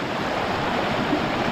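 A river at a trail crossing on a wild camp rushes steadily, a continuous broadband wash of flowing water heard close and alone, with no talk.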